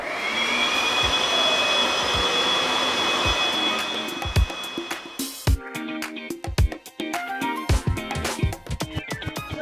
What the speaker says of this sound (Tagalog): And blower!